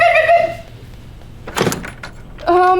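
A door is opened in a tense thriller scene, making a brief close clunk and rattle between stretches of a voice.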